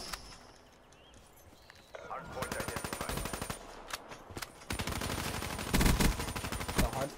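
Rapid gunfire from Call of Duty, automatic bursts loud and fast from about two seconds onward with a heavier stretch near the end, while players chatter over it.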